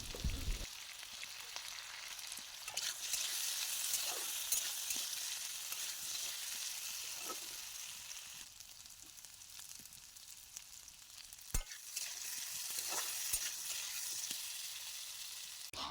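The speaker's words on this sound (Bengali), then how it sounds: "এখন আমি সবকটা আলু বেজে নেব" Potatoes seasoned with turmeric and salt fry in oil, giving a steady, close sizzle for the whole stretch, with occasional soft clicks and brief louder pops from stirring.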